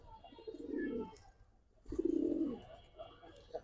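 Jabra pigeons cooing close by, two soft throaty coo phrases separated by a pause, with faint chirps from other birds in the background.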